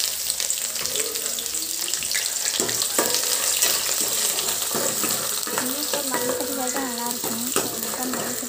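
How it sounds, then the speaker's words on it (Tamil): Onions sautéing in oil in a pan for a Thanjavur-style fish curry, a steady close sizzle with stirring scrapes and a few spatula knocks. Faint voices can be heard underneath. "எண்ணெய் நல்லா பொன்னிறமாக வதக்கலாம்."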